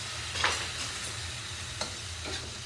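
Wet, unwashed Napa cabbage cooks with soy sauce in a pan, giving a soft, steady sizzle broken by a few louder stirring scrapes.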